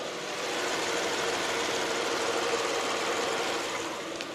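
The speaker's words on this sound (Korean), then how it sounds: "역시 V6 엔진답게 굉장히 정숙하고 깔끔한 엔진 사운드까지 들려주고 있고요" The V6 LPG engine of a 2018 Hyundai Grandeur IG idles steadily up close with the hood open, a smooth, even hum with a faint rhythmic tick, no voices.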